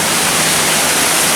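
Constant roaring wash of a nearby Tennessee waterfall, loud and even with no voices over it.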